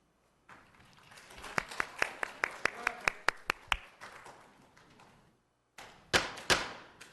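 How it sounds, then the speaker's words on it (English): Scattered clapping from an audience at a city council meeting: a handful of sharp, separate claps in an uneven rhythm, fairly faint, then a brief pause and a few more claps. "No more clapping."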